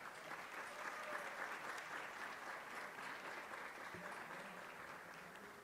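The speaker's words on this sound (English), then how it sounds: "Please give them a round of applause." Steady applause from an audience at a school district board of trustees meeting, broad crackling clapping sustained evenly throughout, fairly quiet and distant with no talking over it.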